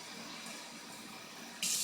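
Warm water runs from a tap in a kitchen while making Croatian strudel, a soft steady flow that grows louder and brighter near the end.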